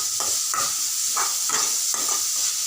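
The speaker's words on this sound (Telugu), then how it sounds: "ఈ విధంగా సిమ్లో పెట్టుకొని వేయించుకోండి." Vegetables with salt fry on a low flame, a steady close sizzle with a rhythmic spoon stirring and scraping about twice a second.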